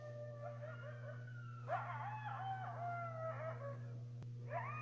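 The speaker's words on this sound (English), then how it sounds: "I hear the faraway yipping and yapping of coyotes, a whole pack of them." A pack of coyotes yips and howls at dusk, the rising wavering calls distant but clear over a steady low hum, several voices overlapping in short bursts.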